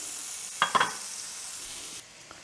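Onions cooking in a pan for chicken cacciatore, heard as a soft, even sizzle with two brief stirring knocks near the start, close but quiet, with no talking.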